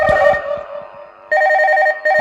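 A steady electronic ringing tone sounds in two long pulses with a short gap, following a brief tonal sound at the start.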